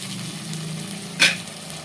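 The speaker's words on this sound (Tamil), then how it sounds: "தக்காளி வெங்காயம் வதங்குறதுக்கான உப்பு சேர்த்துக்கிறேன்" Tomato and onion sautéing in a pan for a village-style fish curry, a steady soft sizzle with one brief sharper scrape or stir partway through.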